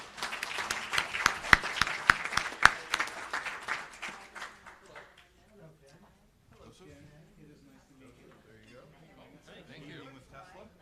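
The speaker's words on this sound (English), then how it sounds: "can we give a round of applause to our panel?" Applause from a conference audience for a panel at an auto expo, sparse claps loudest at first and thinning out within about five seconds, then quiet voices and room murmur.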